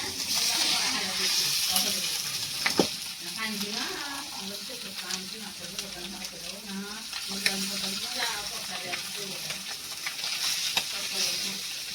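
Pomfret (chandi) fish pieces frying in hot oil, a continuous crackling sizzle with repeated stirring and spatula scrapes close by, faint voices in the background.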